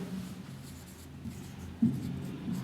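Marker or chalk writing on a board during a chemistry lesson on acids, bases and salts, soft scraping strokes close by in a quiet room, with a couple of firmer squeaky strokes near the end.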